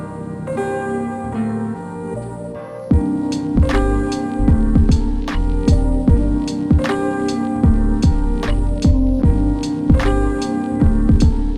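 A distorted bass line saturated with a Kush Omega TWK or SSL X-Saturator plays a punchy rhythmic pattern, with bright percussive hits layered over the gritty low tone.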